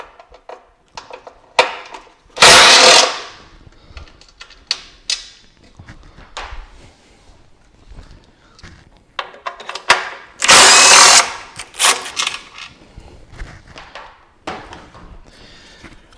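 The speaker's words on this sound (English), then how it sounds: "to remove the bracket, I need to undo these two T30 Torx screws" A power tool backs out T30 Torx screws on the bracket of a BMW 530e high-voltage battery pack, with two loud bursts of whirring separated by scattered clicks and handling knocks nearby.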